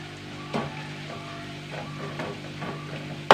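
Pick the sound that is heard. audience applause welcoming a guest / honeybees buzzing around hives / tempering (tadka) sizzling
tempering (tadka) sizzling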